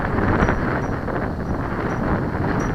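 Strong wind buffets the microphone throughout the flight of an Aura 8 stock light model plane, a steady, loud, roaring gust noise with no break.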